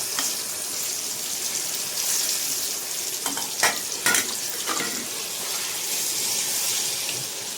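Brinjal sizzling steadily in hot oil in a pan on a stove, a continuous bright crackle with a few louder stirring scrapes midway.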